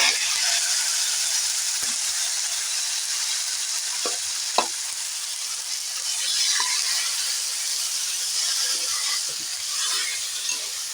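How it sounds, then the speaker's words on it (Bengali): Peanuts frying with turmeric and chilies in a pan, a steady loud sizzle with occasional scrapes and taps of stirring, close up and without talk. "এখন খানিক্ষণ বাদামটা ভাজতে থাকবো"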